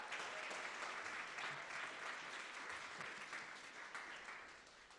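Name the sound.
audience applause for a speaker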